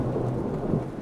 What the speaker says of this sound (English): there's a thunderstorm passing overhead